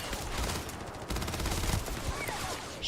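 Rapid gunfire from a pea shooter gun in Starfield, a dense burst of quick repeated shots that runs steadily through the whole moment at moderate loudness.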